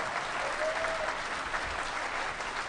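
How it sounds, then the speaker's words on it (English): A large hacker-conference crowd at the DEF CON 17 closing ceremonies claps steadily in a dense, continuous wash of applause, with no pauses and only faint murmurs underneath. "You're going to be doing a lot of clapping."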